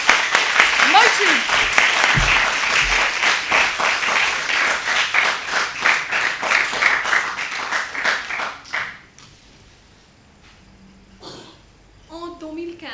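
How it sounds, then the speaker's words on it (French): An audience claps in a rapid, steady rhythm for several seconds, then the clapping fades out and a voice briefly begins. "on va augmenter les applaudissements"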